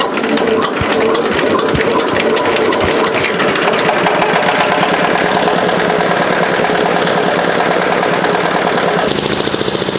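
At a bridge construction site, a machine engine is started and settles into a steady, loud, close idle with an even pulsing chug, and a brief change in tone comes near the end.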